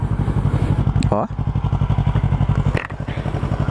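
A Yamaha YZF-R3 motorcycle engine runs steadily and loudly at close range, with a pulsing exhaust throb and a brief rise in revs; a voice briefly exclaims over it.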